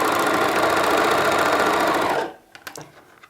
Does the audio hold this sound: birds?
no